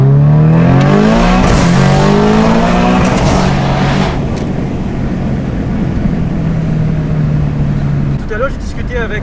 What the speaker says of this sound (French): Le bruit du turbo, franchement, c'est un plaisir pour les oreilles